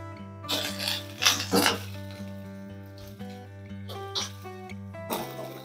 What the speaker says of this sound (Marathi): शेंगा सगळ्या अशा हलवायच्या